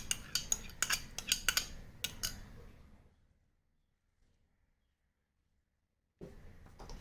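A spoon beats curd into chole bhature dough in a bowl, making a quick run of sharp metallic clinks and scrapes close by. Silence follows, then a short return of faint clatter.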